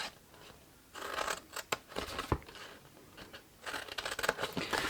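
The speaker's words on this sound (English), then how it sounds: "and cut that away, and then cut all of these as well" Scissors cutting through paper card in a run of close crisp snips and scrapes, with short pauses between bursts and light rustling of the card.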